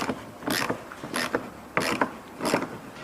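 Four quick bursts of ratcheting clicks from a hand tool tightening the last gearbox bolt on a 2002 Toyota Yaris during an oil change, close up, with short pauses between each burst.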